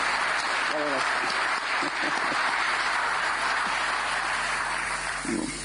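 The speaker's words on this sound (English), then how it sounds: "I think that Margaret Gustavo, she deserves another round of applause." A crowd at the EU–African Union summit in Angola applauds steadily, a dense wash of clapping that stays loud throughout, with a few faint voices mixed in.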